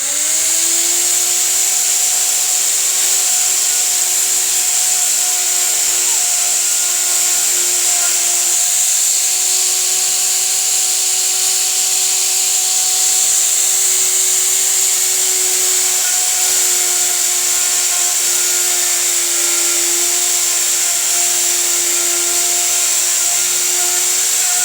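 A router mortiser machine powered on to cut wood, a loud, steady high-pitched whine with sustained tonal hum running unbroken and close throughout.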